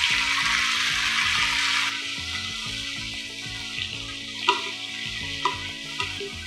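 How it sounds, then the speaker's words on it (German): Tomatoes being stirred into a frying pan with oil and the white parts of spring onions, a steady close sizzle with scraping stirs and a few louder clinks of the utensil against the pan. "Tomaten reingeben, umrühren."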